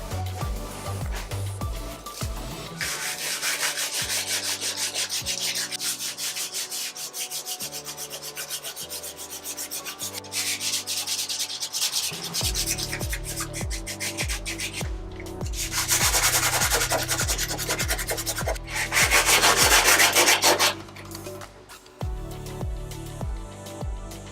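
Steady, rough rubbing and scraping of sanding a car body panel goes on for the whole stretch, growing harsher in bursts, over a continuous low background.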